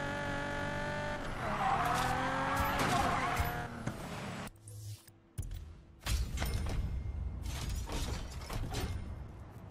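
A car in Need for Speed Payback skids and squeals its tires while drifting under braking and steering, with engine roar and mechanical noise, a brief lull midway, then more loud skidding; a voice talks over parts.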